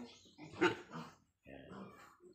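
A large white sow with her piglets gives short grunts and snorts, close by, broken by a brief pause, while someone talks over the animal noises.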